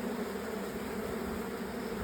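Honeybees buzz around open beehive frames lifted from the hive in May, a steady, dense drone of many wings close by, continuous and even for the whole short stretch without any talking.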